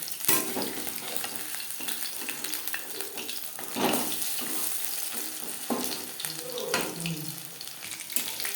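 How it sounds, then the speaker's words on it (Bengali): Steady sizzling and crackling of fish frying crisp in hot oil, with occasional stirring clatter and a brief splash of running water. "উল্টে পাল্টে ক্রিস্পি করে ভেজে নেওয়া হয়ে গেছে।"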